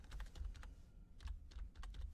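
Quick bursts of typing on a computer keyboard, light clicking keys in short runs with brief pauses, close and quiet.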